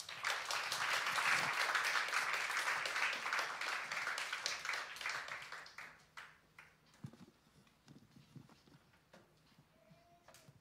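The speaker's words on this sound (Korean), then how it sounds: "우리 박수로 환영하겠습니다" An audience at a Wednesday intercessory prayer meeting gives loud, dense applause to welcome a speaker, swelling for about five seconds and then thinning into scattered claps and faint rustling.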